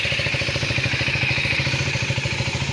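A 1990 Royal Enfield diesel motorcycle engine runs close up with a rapid, regular clattering knock, a steady loud chug throughout with no voices.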